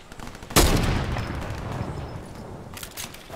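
A single loud gunshot from a Fortnite weapon cracks out sharply and rings off, followed by a quieter spell and then a fainter shot or impact near the end.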